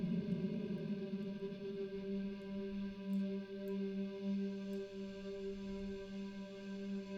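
One sustained synthesizer note hums steadily with a rich, chorus-like shimmer, held evenly without breaks and fairly quiet.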